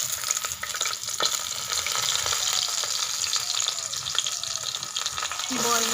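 Vegetables for labra, including pumpkin and beans, fry in oil spiced with bay leaf and dried chilli, making a loud continuous sizzle with scraping stirs and crackles close by.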